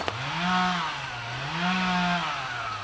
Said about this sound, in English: The power tools have been going all day